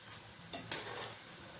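Curd-based snack pieces frying in hot oil over a medium gas flame, a steady close sizzle with two brief sharper crackles partway through, no voices.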